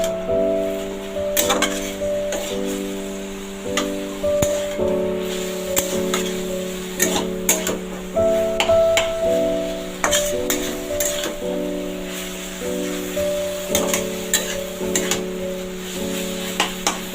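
Pumpkin greens stirred in a pan with black cumin paste, a spoon scraping and clinking against the metal in steady irregular strokes under a low sizzle, with a sustained humming tone running throughout.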